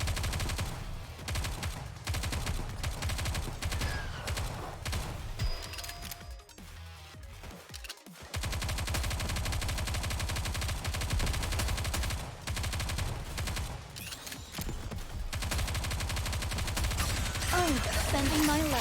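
Sustained automatic gunfire in the mobile shooter game Nikke: Goddess of Victory, loud rapid bursts that run almost throughout, with a brief lull partway and a voice speaking over the shooting.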